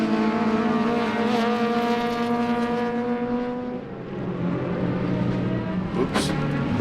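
A winged Ford Mustang club race car at Sebring, its engine droning loud and steady at high revs, then easing off and picking back up near the end, with a brief sharp burst just after.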